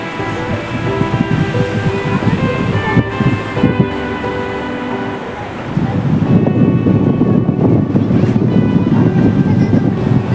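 Sea waves and wind roar loudly and continuously at a large seashore in front of Santeshwar Mahadev temple, swelling stronger partway through.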